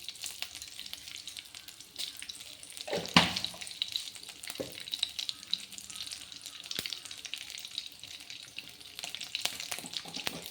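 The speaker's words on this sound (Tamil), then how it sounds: "இப்போ கடுகு போட்டுக்கிறோம்" Mustard seeds crackle and sizzle in hot oil for mutton bone soup, a steady bright frying hiss with scattered pops and one sharp louder crack, no voices present.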